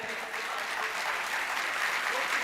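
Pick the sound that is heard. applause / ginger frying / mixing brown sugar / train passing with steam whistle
applause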